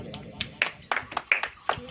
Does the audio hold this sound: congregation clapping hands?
yes